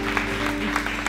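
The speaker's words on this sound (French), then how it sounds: "j'aimerais qu'on les applaudisse une dernière fois, mesdames et messieurs" An audience applauds panel speakers at the close of a talk on volunteer recruitment, a steady dense clapping from a sizeable crowd that fills the moment, with a voice faintly over it.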